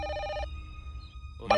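A telephone rings in bursts, with a short trill, then a pause, then the ring starting again. It sounds clear and fairly close, with no voices.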